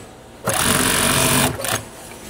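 An industrial sewing machine stitches elastic garter, running in one loud close burst of about a second with a rapid whirring drone, then a brief second burst before stopping.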